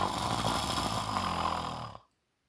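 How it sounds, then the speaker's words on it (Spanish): A dog's loud snore in a Spanish read-aloud children's story: a single long, rasping, rumbling breath that holds steady, then cuts off abruptly into silence. "Ronquido."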